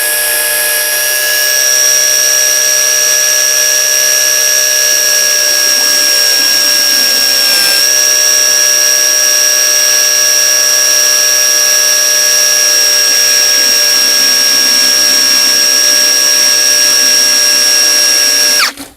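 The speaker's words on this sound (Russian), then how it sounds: "давайте смотреть, сколько же наш пистолет будет прокачивать водичку" A KAMOLEE mini pressure washer pumps water through a hose with a loud, steady, high-pitched motor whine that holds for about eighteen seconds and then cuts off abruptly.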